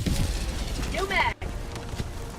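A weapon in a shooter video game takes a fresh magazine, making a quick, close mechanical clack and rattle over busy in-game background noise, with a voice heard around it.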